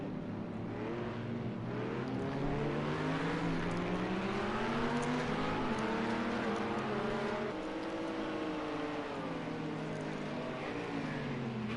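LMP prototype race cars circle the Nürburgring, their engines blending into a continuous, loud roar with rising and falling pitch as cars pass and shift, with no talk over it.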